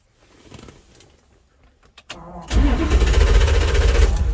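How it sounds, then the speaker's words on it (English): An old classic car engine cranks briefly and then fires, settling into a loud, steady running rumble that carries through to the end. "we'll crank up the vehicle and make sure it gives us a reading from the gauge."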